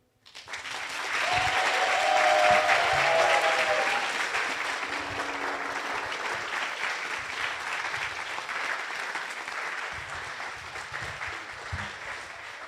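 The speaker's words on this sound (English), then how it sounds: "Big applause once again." Sustained audience applause fills the room after a business plan presentation at a competition final, rising quickly to a loud, dense clapping that holds steady for over ten seconds with no speech.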